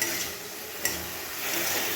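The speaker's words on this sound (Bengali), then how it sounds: "ফোড়নটা হয়ে গেলে ওর মধ্যে যে সিদ্ধ করে রাখা থোড়গুলো ওর মধ্যে দিয়ে দেব, দিয়ে ভালো করে নাড়াচাড়া করব।" Boiled banana stem stirred in hot oil with chilli and mustard seeds, a steady close sizzle with soft scraping of a spoon against the pan and a brief clink partway through.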